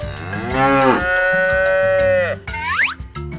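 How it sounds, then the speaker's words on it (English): A toy miniature cattle farm set plays a cow sound: one long, loud moo that holds steady for about two seconds, then a short rising call at the end, with no talk. "Cows."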